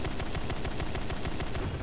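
Rapid cannon fire from a J7W1 fighter in War Thunder, heard from the cockpit as a steady, loud, continuous burst of closely spaced thuds with no talk over it.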